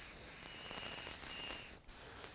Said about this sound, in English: And then spray dust it.